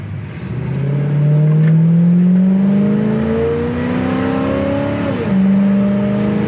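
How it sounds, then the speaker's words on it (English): A 1969 Chevelle Super Sport engine idles at a stop sign around 700 RPM, rumbling steadily, its pitch drifting slowly upward and then dropping back, close and loud with no talking. "Sitting here at the stop sign, really nice, smooth idle"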